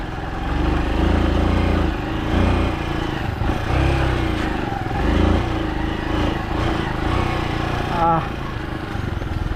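A heavily loaded motorcycle hauling river sand labours along a muddy, slippery road, its engine a loud, continuous droning rumble that swells and eases as the throttle changes.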